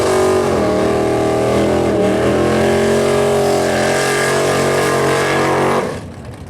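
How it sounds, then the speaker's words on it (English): A 1968 Dodge Dart drag car with a 600 cubic inch Hemi roars at full throttle on a no-prep drag strip, a loud sustained rising engine howl that cuts off abruptly near the end. "600 cubic inch Hemi in a 1968 Dodge Dart"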